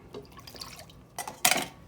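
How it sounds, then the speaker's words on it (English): Water splashes and trickles into a medium-sized pot with sugar while candy syrup is being made, a few soft drips followed by two louder pouring bursts near the end, close and clear. "In a medium-sized pot, I am going to add in my 2 cups of sugar, a half cup of water,"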